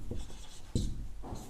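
Handwriting while solving a maths problem, with quiet scratchy strokes of pen or chalk, a few short bursts and one slightly firmer stroke, close but faint and without talk.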